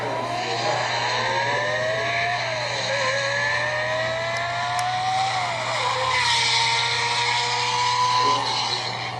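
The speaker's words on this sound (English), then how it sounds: "we hardly hear a Countach at high revs, and it really sounded like a Grand Prix car" A Lamborghini Countach engine screams at high revs in a sustained, piercing howl, its pitch climbing and dipping across the run, loud and unbroken.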